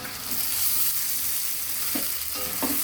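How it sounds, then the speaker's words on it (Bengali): Potatoes cook with frying spices in a pan, giving a steady, close sizzle with a few soft stirring scrapes and clinks near the end, and no talking. "আলুটা সিদ্ধ হওয়া পর্যন্ত রান্না করে নিব আমি এটা। এদিকে আমার মশলাটাও ভাজা ভাজা হয়ে আসবে।"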